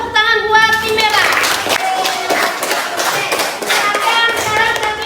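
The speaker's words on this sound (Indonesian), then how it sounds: "yuk kita tepuk tangan buat tim merah" A school class claps together in a steady burst of applause for a team, lasting several seconds, close and fairly loud, with a few scattered taps as it winds down.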